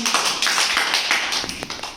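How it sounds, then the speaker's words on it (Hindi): Children in a classroom clap for a classmate, a brief burst of close, quick overlapping claps filling the moment with no talk. "ताली बजा दो इसके लिए"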